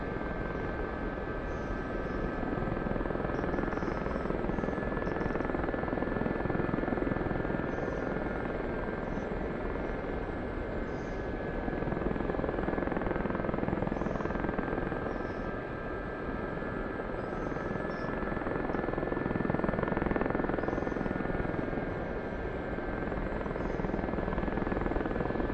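A Gazelle helicopter in the DCS flight simulator flies low and aggressively between bunkers, its steady rotor and turbine drone loud and continuous throughout with no talking.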